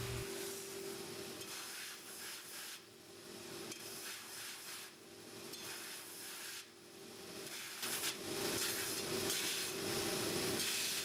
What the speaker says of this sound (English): So I'm gonna go to the belt sander and we're gonna make that beautiful brushed texture.